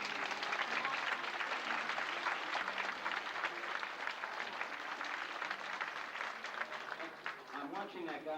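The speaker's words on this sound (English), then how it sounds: "let's give them a round of applause" An audience at a first-grade grandparents' day event applauds steadily for several seconds, a dense wash of clapping with some voices heard near the end.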